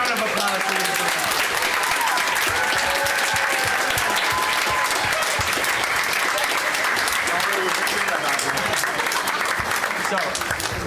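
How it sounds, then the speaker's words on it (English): A theater audience gives a big round of applause for the show's directors after a performance, continuous dense clapping throughout, with some cheering voices mixed in. "a big round of applause for you"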